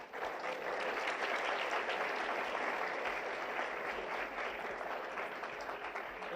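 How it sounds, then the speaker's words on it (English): Audience at an entrepreneurship summit applauding an official certification presentation, a full, steady round of clapping from a large crowd that holds evenly for several seconds before easing off. "So big round of applause for that."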